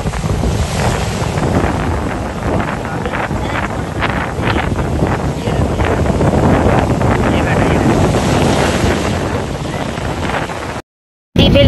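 Fast, churning river water rushes loudly and continuously, with heavy wind buffeting the microphone and a rough broadband roar that holds steady until a brief dropout near the end.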